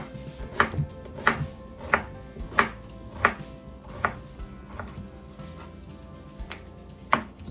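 A knife chops half an onion on a cutting board for lasagna soup, about ten crisp, evenly spaced strikes, close and clear with no talking.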